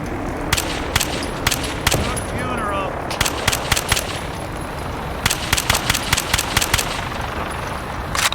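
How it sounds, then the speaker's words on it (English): Rapid gunfire in the video game Fallout 4 VR, sharp repeated shots in uneven bursts over a steady engine-like drone, loud and close throughout. "What are you shooting at, Nick?"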